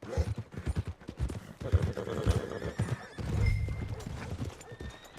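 A horse in the video game Red Dead Redemption 2 clip-clops at a steady walking rhythm and neighs, close and clear.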